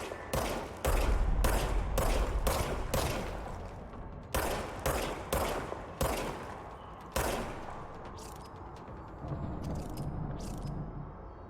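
A gun fired in the video game Control: a run of loud, sharp shots in quick bursts, each with a short rumbling tail, then spaced single shots and a thinner crackle near the end.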